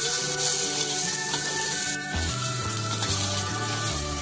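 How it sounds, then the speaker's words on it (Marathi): Thick-cut onion pieces fry in oil on a tawa for a Sunday shev bhaji, giving a steady close sizzle with occasional stirring, busy and even throughout without talk. "कांद्याच्या फोडी आपण जाडसरच कापून घेतलेल्या आहे आणि त्याला आपण छान परतून लागलेला आहे"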